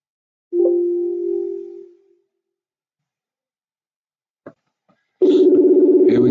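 A phone ringing tone on a live call: one long steady tone, a few seconds of silence broken by small clicks, then a second tone that starts and continues, loud and clear with nothing else around it.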